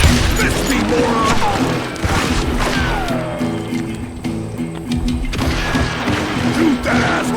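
Gunfire in the Western shooter game Call of Juarez Gunslinger, loud, dense bursts of shots and impacts filling the clip, with a player shouting over the action.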